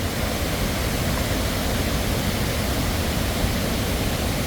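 A loud, dense roar of rushing water pours on without a break from Tat Kuang Si waterfall in heavy flood, heard up close.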